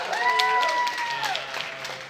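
Brief burst of audience applause for filmmakers on stage at a screening panel, moderately loud with faint voices mixed in.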